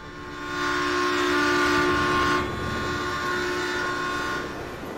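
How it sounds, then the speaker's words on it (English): Freight train passing in the farming game Farming Simulator 19 on an Eastern Shore USA map, a loud steady rumble with tonal wheel and horn-like hum that swells mid-clip and then eases, no talk over it. "Oh, here's the train. Here it is."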